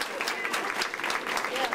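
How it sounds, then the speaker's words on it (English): An audience at a branch library re-opening applauds for students, with steady, dense clapping mixed with crowd voices and some talk throughout the brief burst. "Give them a nice round of applause."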